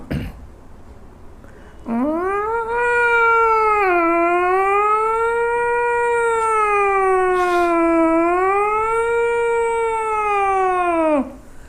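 A voice imitates a police siren, holding one loud, close wail that rises and falls in slow sweeps for about ten seconds after a brief opening noise.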